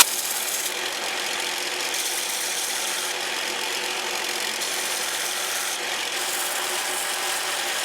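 Thin, soft metal being filed with a hand file, giving a continuous gritty rasp with several repeated strokes that rise and fall at a close, fairly loud level, and no talking.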